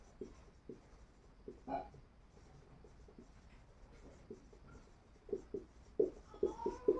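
Writing on a board during an English grammar lesson, soft scattered taps and short strokes, faint and close, growing into quicker clusters toward the end, with no speech.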